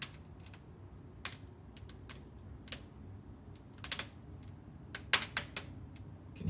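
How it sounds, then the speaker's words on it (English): Faint, sharp cracks and ticks come from the bodywork of a 1973 Toyota Celica ST, scattered irregularly over a quiet background. "You can hear it cracking."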